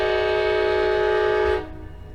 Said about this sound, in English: This fucking train.